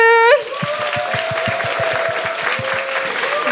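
An audience in a Hong Kong church cheers and applauds, a steady wash of clapping and crowd noise that follows a sharp tone at the start and carries on evenly with a rhythmic thumping underneath.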